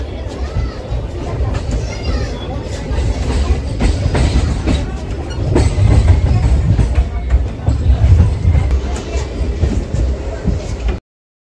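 A local train out of Asansol runs along the tracks with a loud, steady rumble and rhythmic clickety-clack from the carriage, while people talk close by.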